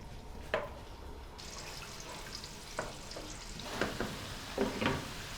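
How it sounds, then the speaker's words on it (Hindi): Garlic and red chili paste frying gently in oil over low heat, a soft steady sizzle with a few brief louder crackles and stirring scrapes, close and with no talking. "लहसुन को हम हल्की आंच पर ब्राउन करेंगे।"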